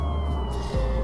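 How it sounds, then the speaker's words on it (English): A police car siren sounds as a steady wailing tone at moderate distance, with a brief falling sweep near the end, over a low background rumble. "let's go ahead and turn the sirens off and the lights"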